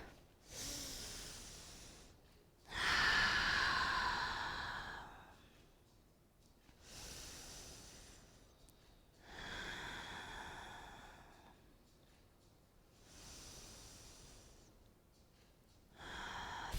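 Three deep, slow breaths in a yoga forward fold, each a long hissing inhale and exhale, close and breathy, separated by short quiet gaps.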